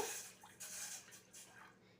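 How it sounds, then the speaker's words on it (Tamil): Two cups of water pour into a cooking pot for boiling basmati rice, a soft splashing, trickling stream with a few drips, fairly quiet and close, with no talk. "இதால் ஒரு ரெண்டு கப் தண்ணி சேர்த்துக்கோங்க"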